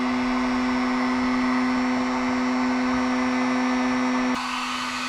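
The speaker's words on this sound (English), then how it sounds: "I'm running this heat gun wide open right now" A heat gun running at full power off a battery generator, a loud steady whirring blower with a strong constant hum that shifts abruptly near the end, no voices.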